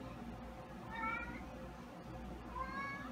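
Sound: cat meowing

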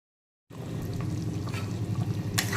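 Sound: boiled water poured into topse fish and potato curry

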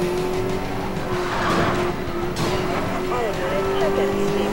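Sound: car skidding in video game Need for Speed Most Wanted 2012

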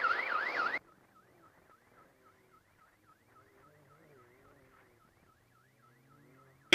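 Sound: alarm sounding on a UTV during a race

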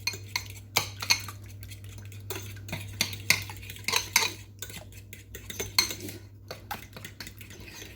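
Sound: stirring a cauliflower mixture with a fork

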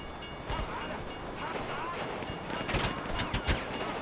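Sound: train passing by in video game Grand Theft Auto V

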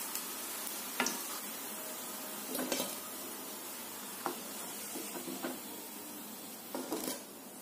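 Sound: jackfruit koftas frying in oil

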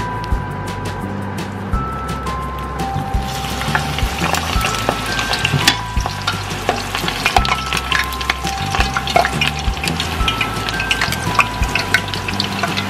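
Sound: squash and prawn fritters (okoy) deep frying in hot oil

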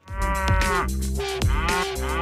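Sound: cow mooing

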